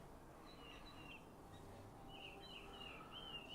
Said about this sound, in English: Songbirds are chirping.